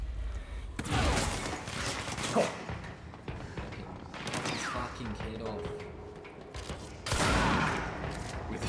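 Loud gunfire bursts from a shotgun in the action video game Control, with heavy blasts near 1 s, 2.5 s, 4 s and 7 s over dense combat noise, and voices talking at points.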